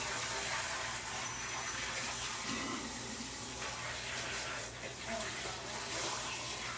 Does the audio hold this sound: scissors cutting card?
no